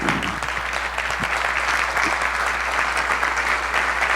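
Sustained applause from a seated audience of accounting-profession volunteers at a national volunteering forum, a dense, even wash of clapping that carries steadily from start to finish with no voices over it.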